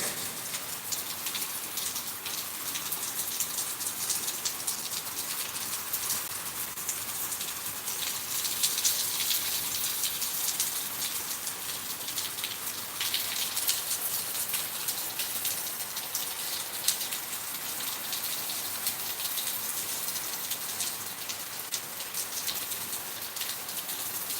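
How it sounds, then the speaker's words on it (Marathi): Light drizzling rain in Pithoragarh, a soft steady patter of drops on surfaces, continuous and fairly faint, with no talking. "पाहू शकता पिथोरागडमधील वातावरण रिमझिम रिमझिम पाऊस"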